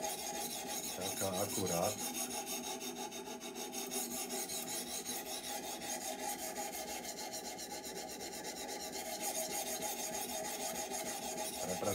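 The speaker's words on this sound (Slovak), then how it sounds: "takto si vyrovnávam opäť tú fazetu, takto brúsim." The bevel of a torsion damascus knife is ground on a sharpening stone with a continuous, even rasping scrape, close and steady throughout, with a brief change in stroke early on and a few quiet words spoken.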